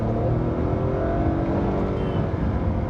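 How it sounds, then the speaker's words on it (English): A Hyundai Venue's 3-cylinder engine revs hard at high RPM, a loud, sustained buzzy drone heard up close and alone without talk. "high RPMs, it gives away that it's a 3-cylinder"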